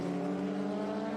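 A Lotus 23B race car with a 1600cc engine holds a steady, buzzing, high-revving engine note as it passes on a track during the Velocity Invitational, loud and continuous.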